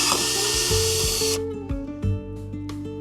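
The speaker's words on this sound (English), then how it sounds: "I'm going to use a cordless drill. I'm going to pop a couple holes in the bottom of this" A cordless drill whines at high speed drilling drainage holes in the bottom of a plant container, then slows and stops, followed by a few short bursts of the motor revving up and winding down.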